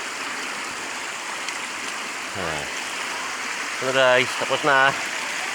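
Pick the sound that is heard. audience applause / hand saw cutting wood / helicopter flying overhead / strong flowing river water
strong flowing river water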